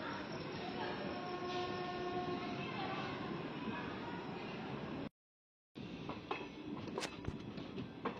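Passenger train running between Veeravasaram and Bhimavaram, heard from on board as a steady loud rumble and rattle of the rail cars, with a horn tone early on, a brief dropout, then sharp clanks and clatter.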